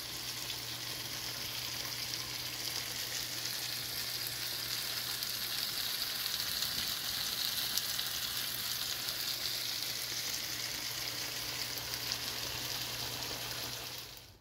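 Fajitas sizzle steadily in a hot pan for the whole stretch, a dense and continuous frying hiss with no breaks and no talking over it.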